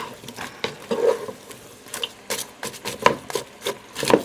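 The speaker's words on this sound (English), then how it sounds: "So, we're gonna go in with our onions, just like that. Onions, onions, onions. And we're letting it cook for a little bit." Onions sautéing in a pan for a quick dinner, a soft irregular sizzle broken by scraping and stirring clicks from a utensil, close and moderately loud with no voices.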